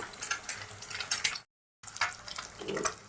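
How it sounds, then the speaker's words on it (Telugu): Eggs cooking in a pan for egg uggani, a soft close sizzle with light crackle, broken by a short gap of silence before the frying sound resumes. "ఎగ్స్ ఇలా వేసుకున్న తర్వాత ఒక 2 మినిట్స్ ఇలాగే ఉడికించుకోవాలండి"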